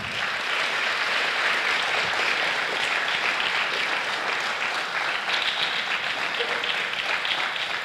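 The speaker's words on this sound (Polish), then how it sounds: "Brawa." An audience at an award ceremony in Poland applauds steadily, a dense, even roar of many hands clapping at moderate distance without pause.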